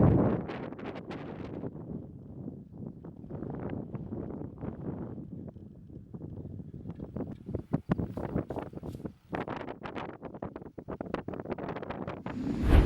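Strong wind buffets the microphone in loud, uneven gusts that roar and fade, with brief lulls between blasts.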